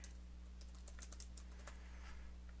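Quiet, close typing on a computer keyboard as a name is entered, an irregular cluster of crisp key clicks over a low steady hum, with no voice.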